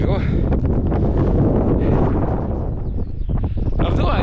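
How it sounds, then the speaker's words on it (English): Strong, gusty wind buffets the microphone on an exposed fell summit, a loud continuous roar that swells and dips slightly, with no clear voices over it. "because it's really gusty up here, and it's just totally exposed"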